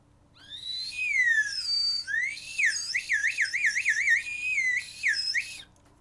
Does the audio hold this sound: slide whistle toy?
yes